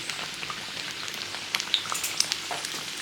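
A Mughlai paratha fries in hot oil and is flipped over, giving a continuous close sizzle with scattered crackling pops and a few sharper spatters, with no voices.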